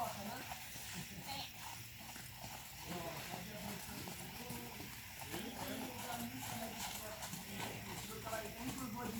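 During show jumping training, a horse's hooves beat out a faint rhythmic clip-clop on the arena ground under a near, continuous voice.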